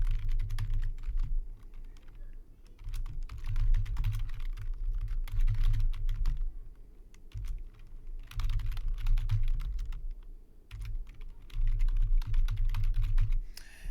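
Hashtags are typed on a computer keyboard in steady runs of rapid clicks, broken by short pauses, close-up over a constant low hum.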